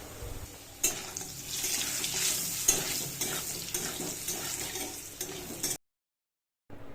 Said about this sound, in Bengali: আস্তে আস্তে করে আলুগুলো ভেজে নেব, কারণ বড্ড তেল ছিটকাচ্ছে।